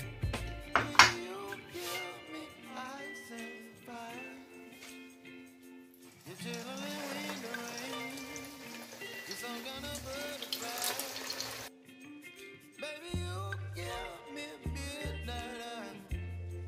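Torrijas fry in hot oil with a faint, crackling sizzle that comes and goes in uneven bursts, while a voice speaks quietly at times.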